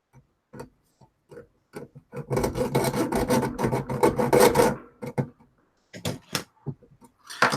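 A hand saw rasps through a 3D-printed orrery part in a run of quick, close back-and-forth strokes, with a few scattered knocks and scrapes before and after.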